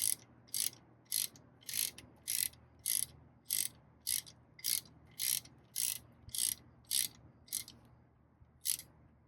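A hand ratchet tightens the cam chain sprocket bolt on a Honda S2000 engine, giving about a dozen crisp, evenly spaced clicking bursts at close range with short pauses between them.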